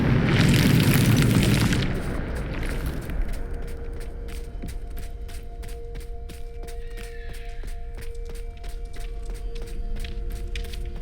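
A Bombarda spell from Hogwarts Legacy goes off in a loud, booming blast lasting about two seconds, then fades into a low rumble and quiet ambient sounds with light clicks.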